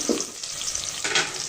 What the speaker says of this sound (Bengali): পেঁয়াজটা ভাজার সময় দিয়ে দিব আস্ত গরম মশলা